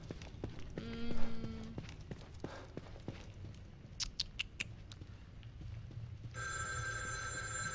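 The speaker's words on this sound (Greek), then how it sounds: "Τηλέφωνο." Telephone ringing in the horror video game The Evil Within 2, a faint high bell trill heard in short bursts amid footsteps and ambient game noise, growing into a steadier ring near the end.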